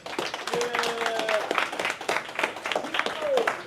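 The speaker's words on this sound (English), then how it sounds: "Give him a big round of applause." Scattered clapping from an audience at a live conference talk, uneven and moderate, mixed with cheers and crowd voices.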